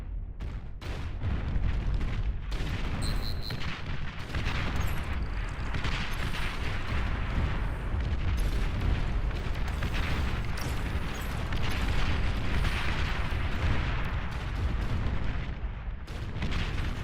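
Mortar bots in a video game fire a dense, continuous barrage of booming, crackling blasts and rumbling explosions that stay loud throughout without letup.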